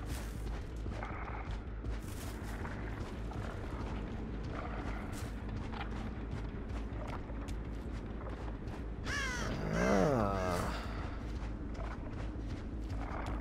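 Crows cawing inside a horror video game, several harsh caws rising above a steady low ambient drone, with a louder cluster of cries near the end and no speech.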